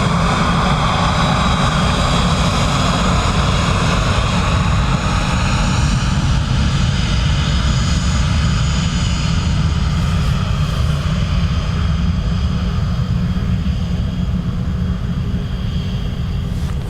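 A Ryanair airliner arriving from Lisbon roars loudly and steadily at Dublin Airport. The broad engine noise stays close and constant for the whole stretch, with no voices over it.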